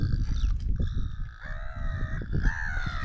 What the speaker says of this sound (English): All the seagulls go mental behind me